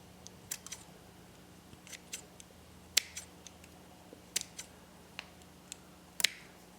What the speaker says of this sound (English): We're going to take a pair of scissors, and we're just going to snip, snip,